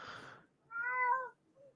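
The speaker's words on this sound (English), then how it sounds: "Oh, it's your cat." A house cat gives one clear, drawn-out meow at close range, followed by a faint short chirp. A brief burst of other noise comes just before it.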